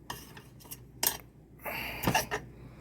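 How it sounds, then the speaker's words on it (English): Chicken soup stirred in a pot with a spoon, giving a few scattered clanks and scrapes against the metal and a brief swishing stretch, close and moderately quiet. "Now you want to stir this up a little more"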